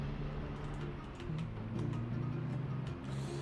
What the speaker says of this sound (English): The only problem with this truck is its engine is loud.